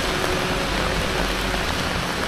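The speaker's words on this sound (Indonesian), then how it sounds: "kalau suasana pas kayak hujan kayak gini" Steady rainfall in the quiet mountain streets of Dieng, a continuous dense hiss without break, fairly loud and close, with no voices.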